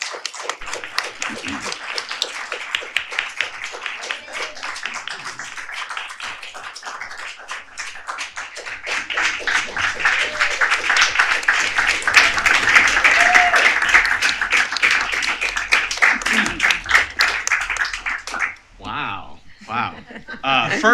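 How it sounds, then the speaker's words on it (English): A crowd claps in sustained applause that swells and then fades, with a few voices and cheers mixed in near the end. "Give it a round of applause again, just because this is amazing."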